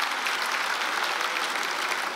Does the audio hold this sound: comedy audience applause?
yes